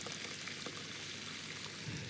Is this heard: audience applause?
no